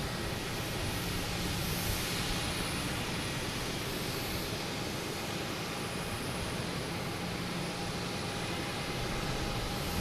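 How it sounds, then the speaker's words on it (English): A Lufthansa airliner taxiing toward runway 15 right at Boston Logan Airport, a steady broadband jet engine roar held at even loudness, with no voices. "Lufthansa is making its way to 1-5 right"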